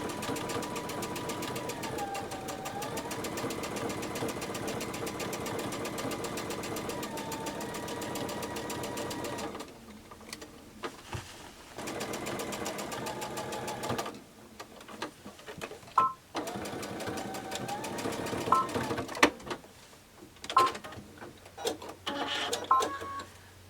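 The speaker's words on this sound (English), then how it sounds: "So I've just done some tacking stitches back and forth here at the end to finish it off" A sewing machine runs in steady whirring bursts, stopping and starting as it makes short back-and-forth tacking stitches, with clicks and handling noises during the pauses.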